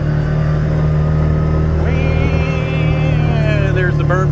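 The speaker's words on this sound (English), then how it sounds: "Driving in the mule." A Mule utility vehicle drives on a homestead, its engine a loud steady hum, with a voice talking over it partway through.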